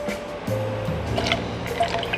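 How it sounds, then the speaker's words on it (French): Apricot juice pours into a glass or shaker for a mocktail, a close, gurgling stream whose pitch rises as the vessel fills, ending in a few drips. "On va mettre donc ensuite 5 centilitres de jus d'abricot."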